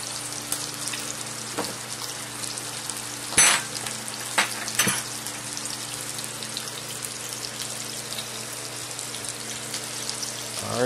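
Lamb chops fry in a pan with butter, giving a steady loud sizzle throughout with a few sharp clinks and scrapes of a utensil against the pan, and no talking.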